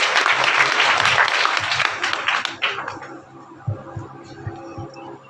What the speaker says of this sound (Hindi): सर प्लीज जोरदार तालियों से सर का स्वागत करें